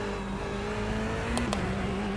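Race car engine in a sim racing rig during a quick lap, a continuous loud drone with shifting pitch as the car accelerates, with a couple of brief clicks partway through.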